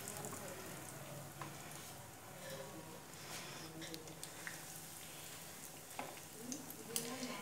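Bread kababs dropped into hot oil give a steady, close sizzling and crackling hiss with scattered pops throughout, while a person talks over the frying.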